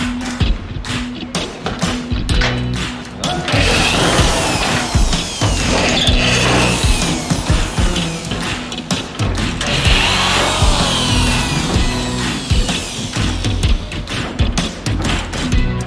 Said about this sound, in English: Call me Dale Earnhardt the way I unscrew these screws like a NASCAR pit crew